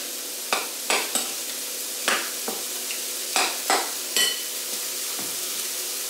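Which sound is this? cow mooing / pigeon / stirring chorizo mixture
stirring chorizo mixture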